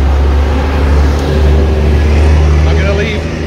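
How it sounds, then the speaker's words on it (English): A loud, noisy bus rumbles close by on a street in Thailand, its low engine drone steady and heavy, with a person talking over it. "Noisy bus."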